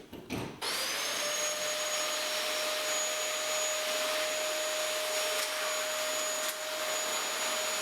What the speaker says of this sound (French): donc je me suis mis à passer l'aspirateur